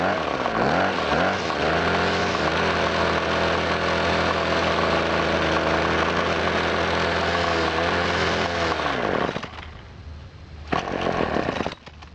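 Small two-stroke engine of handheld outdoor equipment running after being choked, a loud, close, steady buzzing drone that wavers in pitch, then cuts out abruptly near the end with a brief sputter and restart.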